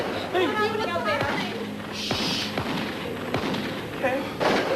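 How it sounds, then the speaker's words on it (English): Several sharp gunshots crack out in a tense night scene, spaced irregularly across a few seconds over a constant low hum, while frightened voices talk and shout nearby. "That's gunshots!"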